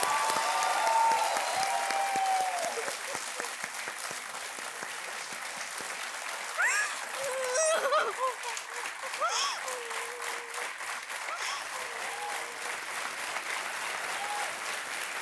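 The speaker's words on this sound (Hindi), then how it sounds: "ताली बजते रहे स्वाति के लिए।" Game show studio audience applauding contestant Swati on the hot seat, sustained steady clapping throughout with people's voices talking over it.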